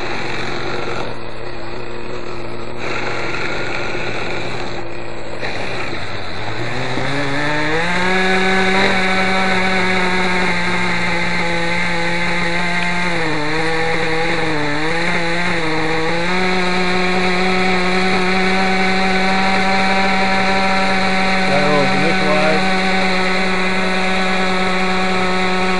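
A Raptor 30 RC helicopter glow engine fires up and runs loud and close, a buzzing, harmonic-rich two-stroke drone that climbs sharply in pitch as it catches, then holds at a high whine with small wavering speed changes.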